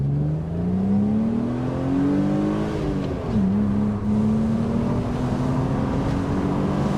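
A BMW Z3 2.8 roadster engine revs hard and pulls up through the range, briefly dips as if shifting, then climbs again, steady and close with no talking.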